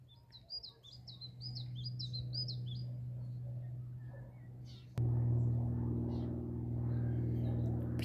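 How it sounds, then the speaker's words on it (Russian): Small birds chirp and sing in quick repeated phrases after a hot day in a peony garden, clear at first and then fading under a steady low hum that grows louder halfway through. "Птицы запели после жары."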